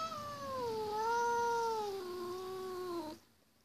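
A single drawn-out cat meow, loud and close, sliding down in pitch over about three seconds before cutting off into quiet.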